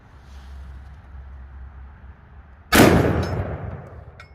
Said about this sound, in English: let's move up to the 460 Magnum, which is what this gun was actually built to shoot.